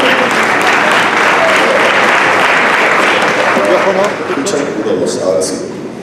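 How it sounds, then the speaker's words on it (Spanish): Applause from an audience at a talk night, dense and steady clapping close by that fills the whole stretch and eases slightly near the end. "Un aplauso para Cristian Huepe."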